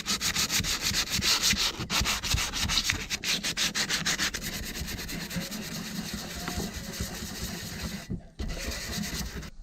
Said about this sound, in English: I took some 220 and sanded down all our marks